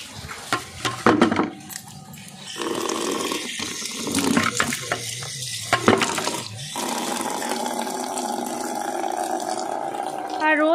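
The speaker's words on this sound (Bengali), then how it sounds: "আমি এখনই জল দেবো" Water splashes and pours onto a shiuli plant outdoors, a moderately loud uneven stream with gurgling and spattering bursts over about ten seconds, while a person talks over parts of it.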